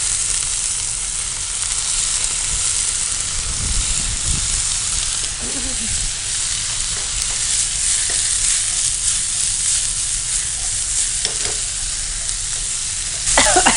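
Raw plantain pieces frying in a pan with ginger-garlic paste give a steady, loud sizzle throughout, with a few stirring scrapes and knocks mixed in.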